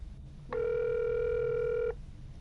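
A single telephone ring tone in Friday the 13th: The Game, a steady electronic tone sustained for about one and a half seconds, moderately loud over a quiet background.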